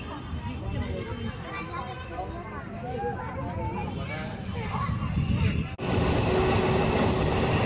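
The Simhadri Express from Visakhapatnam to Guntur rumbles as it pulls away from Annavaram station after a two-minute halt, with passengers chattering on board and a sudden louder surge of rolling noise near the end.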